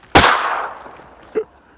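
A single sharp shotgun blast goes off while duck hunting in Mound City, Missouri, loud and close, with its report ringing away over open ground, followed by a brief faint thump.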